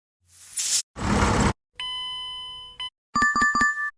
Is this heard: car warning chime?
yes